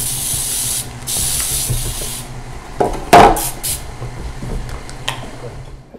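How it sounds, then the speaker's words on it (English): Pam cooking spray hisses onto a bread pan for chocolate chip banana bread, one sharp close spray burst midway, with lighter hissing earlier and soft kitchen handling noises. "we're gonna spray the bread pan with a little bit of Pam so it doesn't stick"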